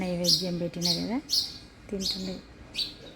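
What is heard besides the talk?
house sparrow chirping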